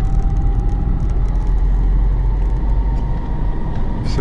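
A Chevrolet Niva drives along a road at night, its engine and tyre roar forming a steady, loud, close drone with no voices over it.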